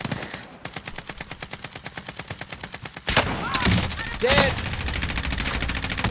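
Rapid automatic gunfire in the Warzone game, a steady burst of evenly spaced shots followed by louder, denser firing and explosions.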